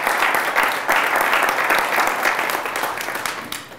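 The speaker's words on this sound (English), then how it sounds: "So let's give her a round of applause." Steady round of applause for Rita Lewis, a civil rights commissioner, from a moderately close audience, sustained for a few seconds and tapering slightly at the end.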